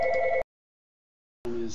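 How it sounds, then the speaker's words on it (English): A telephone bell rings in two short bursts separated by about a second of silence, close and clear in a quiet room. "And of course the phone would start ringing."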